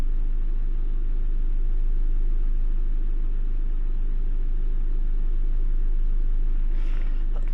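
A racing car engine in the Assetto Corsa racing game on PS4 gives a steady, continuous low drone with a constant pitch throughout, moderately loud and heard alone, with a brief faint click at the very end.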